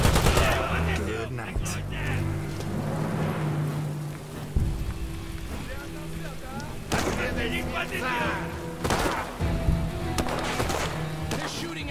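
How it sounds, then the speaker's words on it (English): Enemy gunfire in the video game War Mongrels: bursts of rapid machine-gun fire and shots that come in several loud waves, with a voice talking between them. "They're shooting at me."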